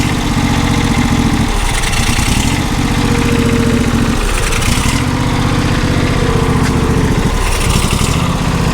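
A long-unused John Deere SST16 zero-turn lawn mower, found in a barn, its engine running steadily on choke with a loud, close, rough drone and slight rhythmic surges. No one speaks.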